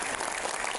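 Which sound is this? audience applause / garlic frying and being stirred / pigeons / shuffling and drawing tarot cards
audience applause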